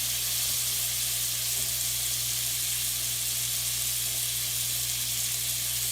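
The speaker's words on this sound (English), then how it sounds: "all I'm doing is just searing it on both sides, getting it just a little bit brown" A whole venison loin sears in hot olive oil, giving a steady, loud, unbroken sizzle with no talking.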